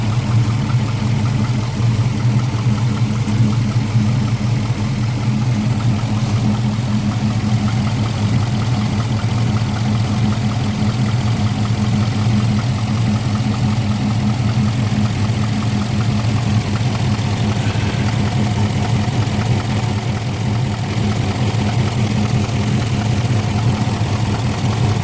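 A Hemi V8 with a newly installed intake manifold and Pacesetter long-tube headers idles in a steady, even rumble, running continuously at close range with no voices.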